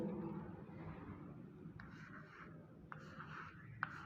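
Pen or marker writing numbers by hand on a board or paper, a soft continuous scratching with short strokes and a few small taps, close by over a low steady rumble.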